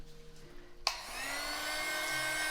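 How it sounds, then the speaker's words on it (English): Heat gun switched on after a quiet stretch with a sharp click, then a steady whooshing fan-and-motor whine holding at a constant level. "Now, I'm going to use the heat gun"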